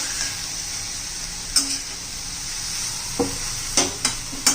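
Capsicum frying in a pan with salt, a steady bright sizzle broken by several sharp stirring scrapes and clinks of the spoon, close and without talk.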